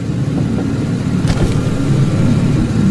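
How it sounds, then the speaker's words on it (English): A parked car's engine idles steadily outside a house at night, a loud continuous low rumble with no voices over it. "I looked out my window and saw the car parked on the street just past my driveway"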